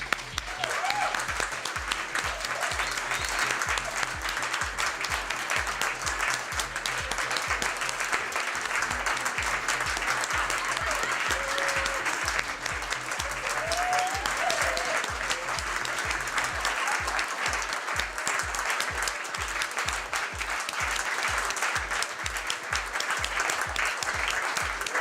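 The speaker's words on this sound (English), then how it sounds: "I'm going to clap for 1 minute" An audience at a HackJozi 2016 talk claps continuously for a long stretch, a dense, steady wash of applause with a few faint voices poking through.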